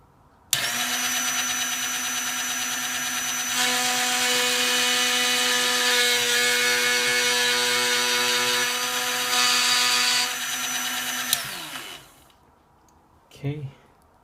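A machine trims a Tamiya Mini 4WD VS chassis part with a loud, steady high-pitched whine that holds for about eleven seconds, shifts slightly in tone, then winds down, followed by a short click.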